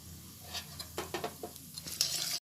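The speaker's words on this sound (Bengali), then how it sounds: "সর্ষে ছোলার ডালটা ভাজা ভাজা হয়ে গেছে" Mustard seeds, dried red chillies and chana dal fry in hot oil in a pan, giving a soft sizzle broken by several sharp pops and crackles and some stirring scrapes, building louder toward the end.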